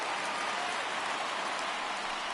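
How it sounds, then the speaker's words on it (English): Steady, dense rain falls in the MLB The Show 19 baseball video game, a continuous even hiss at moderate level, with no voices. "It's raining cats and dogs out there."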